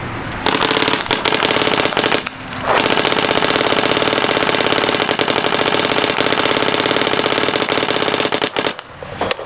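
A paintball marker fed by a CRBN DRV loader fires in loud, rapid full-auto strings, one short burst followed by a long sustained volley that stops near the end.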